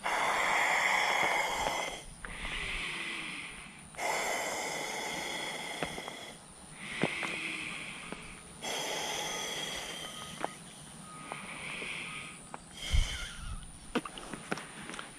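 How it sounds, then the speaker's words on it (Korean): Air blown by mouth into the double valve of a packrafting life jacket, a series of breathy, rushing puffs a couple of seconds each, separated by short pauses for breath, close and fairly quiet. "바람을 한번 넣어 볼게요."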